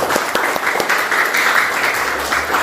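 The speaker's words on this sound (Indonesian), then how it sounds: "Tepuk tangan sekali lagi ya." Audience at a vocational school session applauds a guitar performance, steady dense clapping from a crowd, close and continuous for a few seconds.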